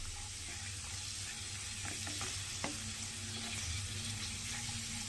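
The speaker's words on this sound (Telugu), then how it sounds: "ఇప్పుడు మనం ఈ 2టిని ఒకేసారి వేసేసి ఫ్రై చేసేసుకుందాం" Ingredients for green pea payasam fry in ghee with a steady close sizzle, and a few stirring clicks and scrapes sound over it.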